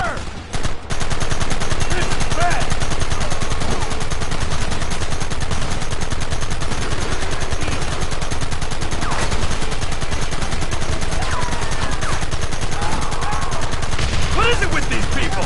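Sustained gunfire from a Red Dead Redemption shootout, loud rapid shots packed densely throughout, with voices shouting amid the continuous firing.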